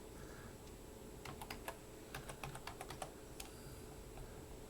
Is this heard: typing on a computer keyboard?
yes